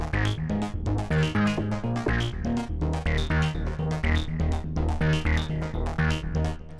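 An arpeggiator preset on the Vecto synth cycles through a rapid, evenly pulsing note pattern over a steady bass line, looping continuously at moderate volume with no talking.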